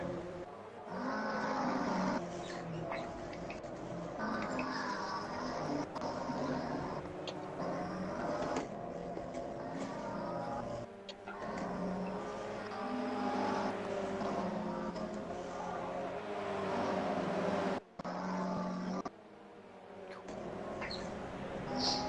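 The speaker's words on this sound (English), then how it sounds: "The wheels grinding like fuck" Race cars roar together at the start of a club race, engines droning and wheels grinding in a continuous, loud wash of mechanical noise with no one speaking.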